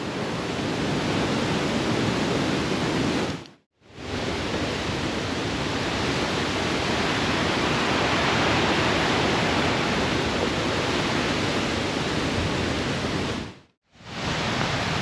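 A dense, roaring hiss of heavy rain pours down without letup on a hike up Cader Idris in Wales, loud and close, broken by two brief moments of silence.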